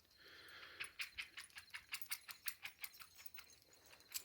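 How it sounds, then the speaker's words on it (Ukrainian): A rapid series of soft scratching rasps, like a dog scratching itself, repeating quickly at close range with no voices. "а то собака чухається."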